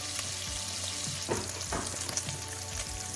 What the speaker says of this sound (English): The tempeh is just sizzling away.